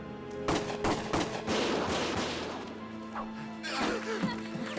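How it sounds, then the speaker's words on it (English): Rapid bursts of gunfire in the video game Valkyria Chronicles crackle and bang in quick succession, loud and chaotic, with impacts and debris mixed in. "Gunfire!"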